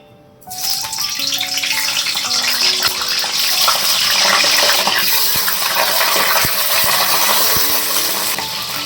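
Wet cauliflower dropped into hot oil in a wok, erupting in a loud, sudden spattering crackle that stays intense and close, popping irregularly throughout.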